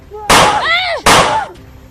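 Gunfire in a staged shootout scene, two loud sharp bursts close by, each ringing out with a descending whistling tail, amid shouting voices.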